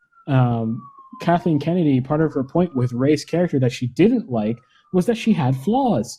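A faint siren wail glides steadily in the background while someone talks continuously over it.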